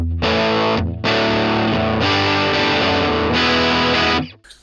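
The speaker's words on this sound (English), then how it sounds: "this is a Brit Blues. Has that super toppy Marshall thing going on." Electric guitar through a NUX Amp Academy Brit Blues amp model with bright, toppy Marshall-style overdrive, several loud sustained distorted chords, one after another, alone, before a sudden stop.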